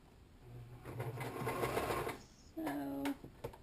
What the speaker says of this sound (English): So again, you're just sewing the square, sew until you reach the end, one piece